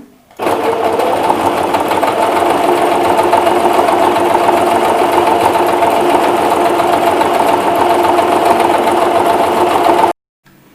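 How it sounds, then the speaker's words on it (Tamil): A sewing machine runs continuously for about ten seconds stitching a decorative embroidery pattern, its rapid needle chatter loud and even before stopping abruptly. "இப்போ 3 டைப் ஆஃப் ஸ்டிச்சஸ் போட்டிருக்கேன்"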